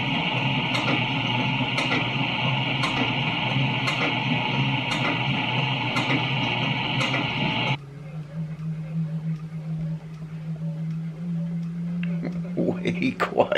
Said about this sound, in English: I think it's the servo motor that might be causing that noise.